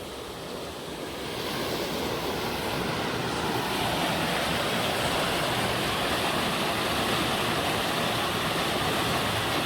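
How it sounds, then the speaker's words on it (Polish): The Sztoła river flowing beneath a bridge, heard as a steady, loud, broadband rush of water that swells slightly after the first couple of seconds and then holds constant, with no voices. "posłuchajcie sobie trochę rzeki."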